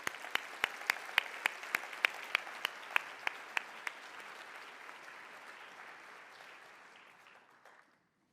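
Audience applause at an awards luncheon, a few sharp, close claps standing out over a softer spread of clapping that gradually fades away to silence.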